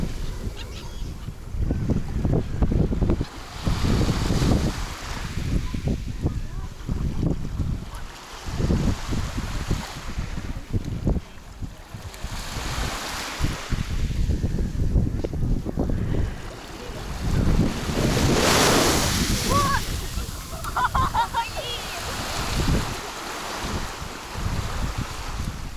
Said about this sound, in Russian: Холодный ветер, да.